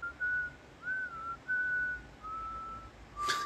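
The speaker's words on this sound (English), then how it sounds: "Now he's whistling it just to mock her even more" Slow, lilting tune whistled by a man in a film scene, a few sustained notes with short gaps, clear over a quiet background, ending with a brief soft rustle.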